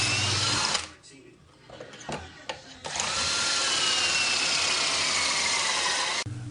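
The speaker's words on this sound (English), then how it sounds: "I just drill out the holes that I want, making sure that the drill goes all the way down till the stop collar contacts the block." A power drill bores pocket holes in clamped wood through a Kreg Jig K4, a loud sustained whine that dips briefly amid some clunks, then runs steady again until it stops.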